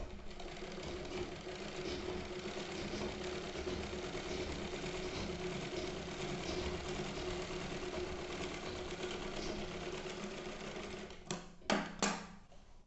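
A tailoring sewing machine stitches a seam along the edge of cloth, a continuous close mechanical whirring that runs steadily and ends with a few knocks and clicks.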